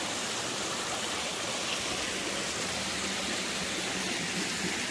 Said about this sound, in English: A beautiful, nice snow melt water source. Splashing down, easy to get, clear and clean.